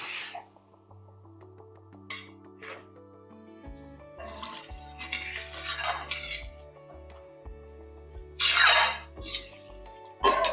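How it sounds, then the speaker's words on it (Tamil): Spoon stirring egg gravy (muttai kulambu) with masala powder and a little water in a pan, giving soft scattered metallic clinks and scrapes over a low steady background hum, with no talking. "இந்த அளவுக்கு நல்லா கலந்து விட்டுருவோம்."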